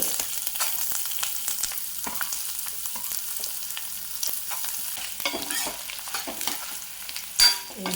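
Chillies and ginger sautéing in a pan for ginger chutney, a crisp, continuous sizzle with frequent scraping stirs and clicks of a spoon, close and fairly loud, with no talk.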